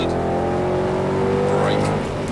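A Mercedes-AMG car at a driving experience accelerates hard, its engine note a loud, continuous rising roar that climbs through a gear change from second into third, heard from inside the cabin.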